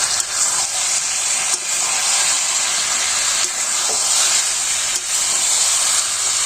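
Chicken sautéing with cumin and coriander powder in very little oil gives off a loud, continuous hissing sizzle, close by, with a few faint scrapes breaking through.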